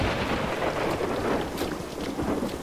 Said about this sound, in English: I want to see the thunder.